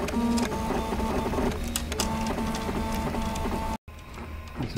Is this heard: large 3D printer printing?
yes